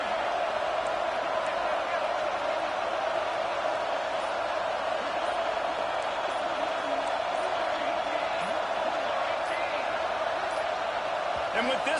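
A stadium crowd in a college football video game roars loudly and continuously, a dense wall of cheering that holds steady throughout.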